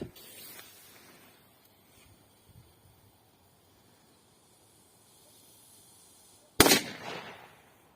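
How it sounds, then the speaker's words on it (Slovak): A Minibomb firecracker detonates in a single loud, abrupt blast late in the clip, trailed by a brief hissing decay, with only faint ambient noise beforehand. "Ďalej si dáme petardu Minibomb."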